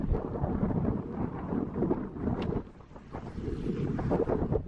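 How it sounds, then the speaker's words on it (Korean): Strong wind buffets the microphone outdoors on a walking trail on Ganghwa Island, a continuous loud rumbling roar that swells and dips without a break. "바람이 엄청 부는데 지금 사운드가 특히 좋지는 않을 것 같아요"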